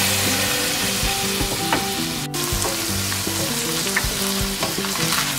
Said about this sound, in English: to this I'll add in my butter and my ginger garlic paste and cook it